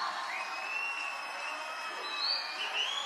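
A large crowd at a 2024 political rally in Erie, Pennsylvania cheers steadily, with shrill whistles rising above the sustained roar from a distance. No one speaks.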